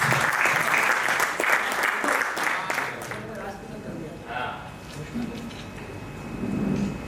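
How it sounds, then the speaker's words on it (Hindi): Loud audience applause welcomes a poet at a Hindi kavi sammelan, dense for the first few seconds and then thinning out as voices and stage sounds take over. "आप एक बार ताली से उनका स्वागत करें।"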